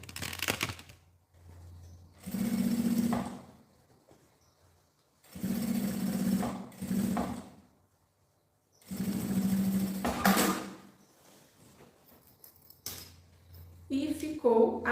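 A sewing machine topstitches a seam on a luxury cosmetic bag in three separate bursts of fast, steady stitching, with someone talking in the pauses between runs.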